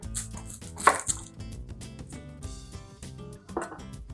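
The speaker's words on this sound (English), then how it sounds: "we're going to take a little bit of onion. So we're going to cut the bottom off" A knife cutting the ends off an onion on a cutting board during Mexican cooking prep, a few close, distinct chops and taps at an uneven pace with quieter handling sounds between.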